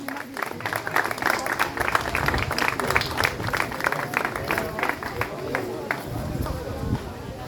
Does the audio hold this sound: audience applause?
yes